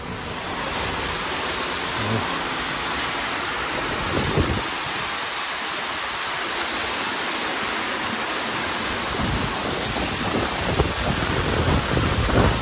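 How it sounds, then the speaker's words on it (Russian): A near-real waterfall at a hotel in Sochi on a rainy day pours steadily, a dense, loud, unbroken rush of falling water with no voices. "А я тебе покажу водопад."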